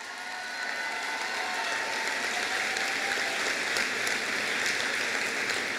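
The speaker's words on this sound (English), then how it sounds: "Rosa brought her cheering crowd" A crowd cheering and applauding at a college convocation ceremony, sustained dense clapping that swells slightly after the start and holds steady, loud and continuous with no talk.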